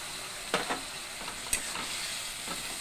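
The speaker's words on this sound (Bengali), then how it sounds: "এখন একটু কষায় নিব।" Cumin powder and spices sizzle in a pan with a little water, a soft steady frying hiss punctuated by a few scraping strokes of a stirring spoon.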